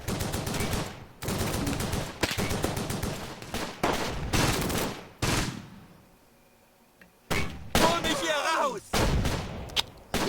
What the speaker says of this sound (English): That's the Vickers